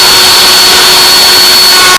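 A vacuum cleaner runs close and very loud with a steady broadband roar and a thin whine, cutting off at the end, while a woodworker tidies up during an antique wall mirror project.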